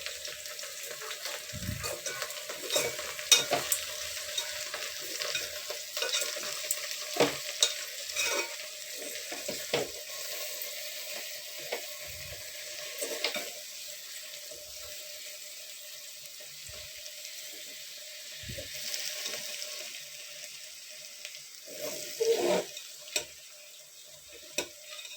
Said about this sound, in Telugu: కొంచెం అంత పసుపు, కొంచెం అంత ఉప్పు అండి, కొంచెం అంత కారం అండి. ఇవన్నీ కలియబెడదామండి.